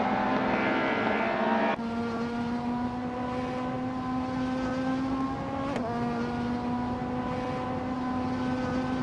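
A 1992 BMW 318iL race car engine in a racing video game, a steady droning engine tone that jumps in pitch at a gear change, then holds and shifts again, with no talk.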